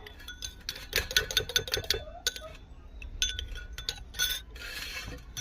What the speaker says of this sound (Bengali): আর এই যে মিঠা আতরটা দিয়ে দেব, দিয়ে এটাকে ভালো করে মিশিয়ে নেব।